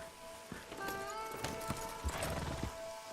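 Horse hooves clip-clop at a steady walk in Red Dead Redemption 2, each step distinct and close, while a horse whinnies and snorts partway through over a faint outdoor background.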